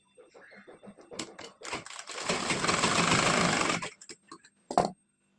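A sewing machine stitches piping onto a blouse, starting with short bursts of stitching, then running in one steady whirring pass for about two seconds before stopping with a few more quick taps and a final short burst.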